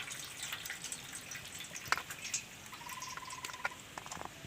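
Ash gourd pieces are washed in clean water, with faint splashing, drips and small trickles, scattered soft clinks and a brief watery tone, all at low level with no speech.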